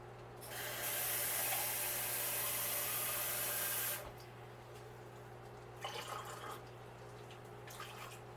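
Water pours from a tap into a container for several seconds, a bright hissing rush, then stops, leaving faint drips and small clinks.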